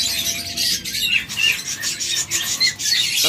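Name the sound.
rainbow budgerigars chirping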